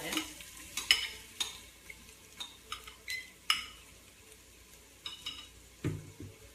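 Diced onion goes into a hot pan and fries with a faint sizzle, punctuated by a string of sharp spoon clicks and scrapes against the pan and one heavier clatter near the end.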